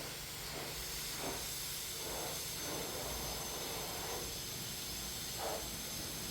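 High-pressure water spray hisses steadily against a car at a car wash, a continuous broadband rush with faint pulsing surges, no talk.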